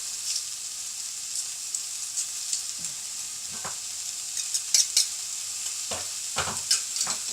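Eight cherry tomatoes and four garlic cloves fry in a paella pan with a steady bright sizzle, broken by scattered scrapes and clicks of stirring and no voices.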